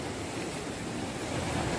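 Ocean waves at Tamban Beach in south Malang: a steady, moderately loud wash of surf and wind noise with no voices.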